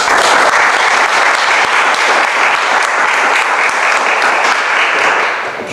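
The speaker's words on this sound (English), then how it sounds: "I would kindly ask you for one more big applause." Steady, dense applause from an audience at a literary reading, loud and sustained throughout with no voices over it, tapering slightly at the very end.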